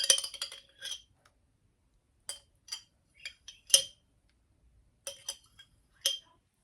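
A metal spoon clinks and scrapes against a pot holding a one-pot dinner, in a quick cluster of sharp taps followed by scattered single clinks with short silences between, close and clear with no talking.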